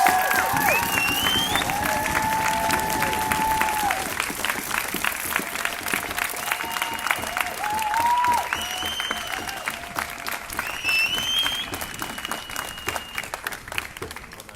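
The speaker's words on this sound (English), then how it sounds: "What a great applause." A crowd at an Extinction Rebellion migrant justice rally gives sustained, loud applause, with dense clapping, cheers and whistles over about fifteen seconds, and scattered voices shouting through it.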